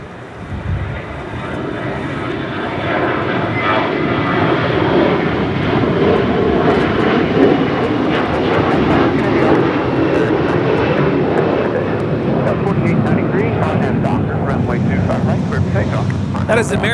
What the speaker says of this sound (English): That is American Airlines 1966 departing to Charlotte on an A321